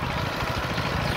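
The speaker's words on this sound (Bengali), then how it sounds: "সামনে যে যন্ত্র দেখা যাচ্ছে এটাকে বলা হয় পাওয়ার টিলার।" A power tiller engine runs with a close, steady, rough chugging drone while it ploughs a paddy field.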